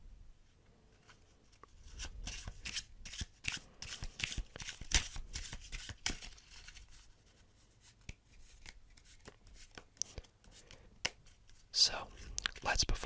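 A new deck of playing cards is shuffled and riffled close up. Quick, papery flutters and snaps come in repeated bursts over about thirteen seconds, with soft whispered talk in places.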